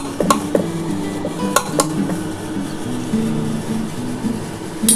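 A pressure cooker lid is set in place over spiced mutton kosha with a little ghee and only a small amount of water, giving a few sharp metallic clanks and clatters over a steady low kitchen background.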